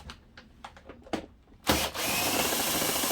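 A power drill with its bit held in an adapter and the chuck not fully tightened, working on a ZX6R motorcycle service: several short ticks and taps come first, then the drill whirs up and runs steadily, close and loud.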